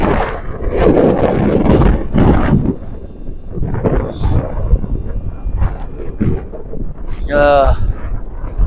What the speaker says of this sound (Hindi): कितनी तेज हवा है